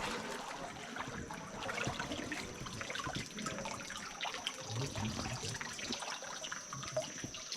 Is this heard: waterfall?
yes